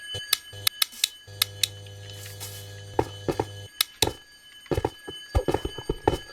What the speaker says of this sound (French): Ouais, la sonnerie.